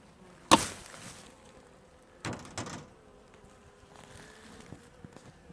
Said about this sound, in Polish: Tu pszczoły latają.